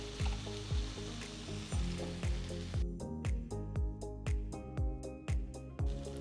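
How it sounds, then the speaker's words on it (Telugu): Marinated fish pieces roast in coconut oil in a covered pan, giving a soft, continuous sizzle with faint pops. The sound stays low and even, and no one speaks. "ఇందులో మ్యారినేట్ చేసిన ఫిష్ పీసెస్ని పెట్టి ప్యాన్కి ఒక మూత పెట్టి కనీసం 3 నిమిషాలు కాల్చాలి."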